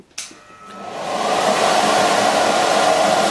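A blower runs four feet from a large-diameter venturi in a wind turbine test, starting with a click and rising into a steady, rushing airflow hiss that holds alone.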